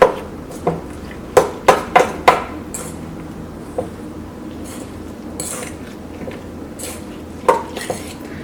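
Utensils clink and scrape against a bowl while pepper powder, potato, egg and bread are mixed together: a burst of sharp knocks early on, then scattered taps over a soft stirring hiss, close up and with no talk.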